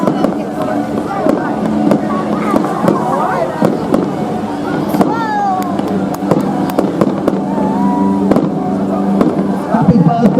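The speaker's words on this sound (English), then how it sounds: "he's still trailing a huge blaze of fireworks in his own right." Fireworks trailed from a helicopter at a night airshow crackle and pop in irregular bursts over a steady rotor rumble from above, while a voice commentates throughout.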